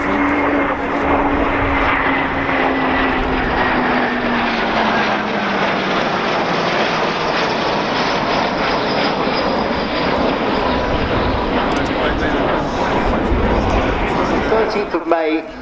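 Canberra and Hunter jet aircraft with Rolls-Royce Avon axial-flow engines flying at an airshow, a loud continuous roar with a slowly falling whine, steady throughout as the jets pass.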